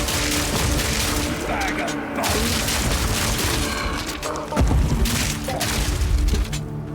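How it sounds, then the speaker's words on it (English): A shotgun-blast style ability in the video game Path of Exile 2 fires repeated booming bursts over chaotic combat noise, with one especially heavy blast near the end, while a voice talks over the action. "It's a shotgun blast style ability."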